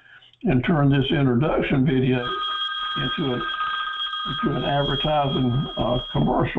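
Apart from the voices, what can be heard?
telephone ringing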